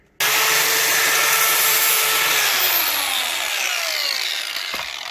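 A power grinder bites into a steel driveshaft being shortened in a DIY job, a loud continuous abrasive whine starting abruptly and holding steady for about five seconds, alone with no talking.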